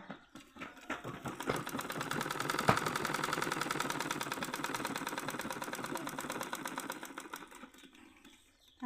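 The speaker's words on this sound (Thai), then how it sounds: "ดึงผ้ามานะคะ เย็บตามขอบ เลยนะคะ" A sewing machine stitches along the edge of fabric for Hmong-style trousers, a fast, even mechanical rattle that builds up, runs steadily for several seconds, then slows and stops, close and alone.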